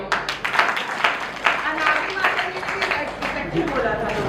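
Devotees at a Vrindavan katha festival in a Sanatan Dharma temple clap for a fellow devotee, making irregular, overlapping handclaps that continue for several seconds, with some talking mixed in.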